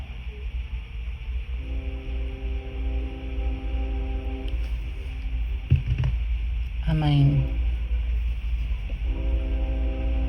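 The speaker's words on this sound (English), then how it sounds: "I'm sorry if you hear the train in the background." A steady low rumble of a passing train runs throughout, with a long horn-like tone in the background and a brief voice near the end.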